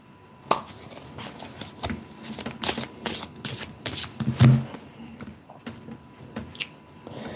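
Tarot cards are shuffled by hand, giving repeated crisp riffling slaps and taps in an irregular rhythm, close and distinct with no talking.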